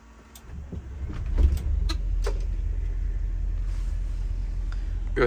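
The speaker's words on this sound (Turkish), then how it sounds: "ben size bir motor sesini dinleteyim arkadaşlar" A bus engine catches with a brief thump and then settles into a steady, low idling rumble, heard close up and alone, with rain falling around it.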